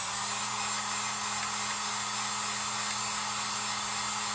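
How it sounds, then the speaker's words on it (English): A heat gun blows steadily on a stencilled bowl being dried, a constant loud whooshing roar with a high whine that holds unchanged throughout. "So I'm going to go ahead and dry this with a heat gun"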